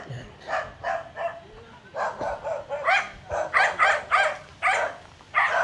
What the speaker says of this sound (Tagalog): yung mga aso masusungit